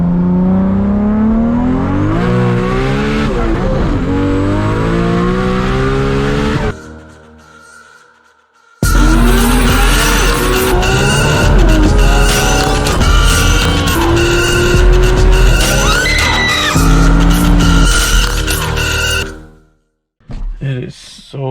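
A 1000+ hp Toyota Supra MK4 spins its tires under hard acceleration on a cold day, with a loud, sustained engine roar and tire screech that cuts out briefly, surges back loudly, then stops. Talking is heard over the first run.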